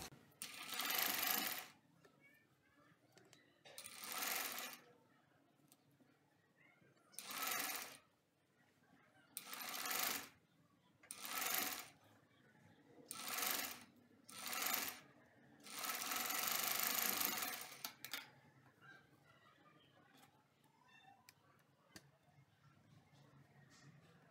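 A sewing machine stitches a sleeve onto a baby frock in repeated bursts of rapid whirring, several short runs and one longer run, with quiet pauses between them.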